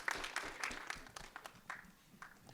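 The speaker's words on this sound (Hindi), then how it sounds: "ताली बजाओ।" An audience applauding at a film trailer launch event, scattered claps of moderate loudness that thin out and fade toward the end.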